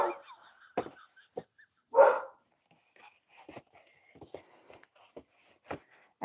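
A few sporadic barks and yips from a dog nearby, with quieter whimpering noises between the louder outbursts.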